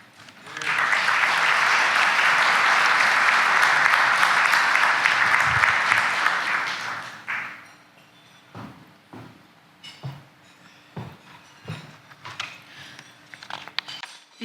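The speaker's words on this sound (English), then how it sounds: "I applaud you and Dean Alexandra for gathering to honor this year's Hall of Fame inductees." Loud, dense applause from a crowd at a Hall of Fame ceremony fills the first seven seconds, then fades into scattered claps, shuffling, and clinking in a quieter room before dinner.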